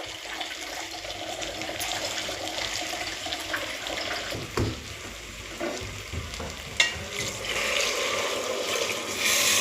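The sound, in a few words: water poured into fried rice for masala bhat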